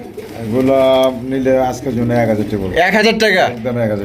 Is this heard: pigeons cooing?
yes